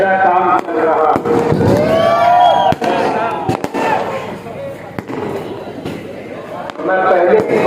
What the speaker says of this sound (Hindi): ये जो पटाखेबाजी हो रही है, ये हम नहीं कर रहे।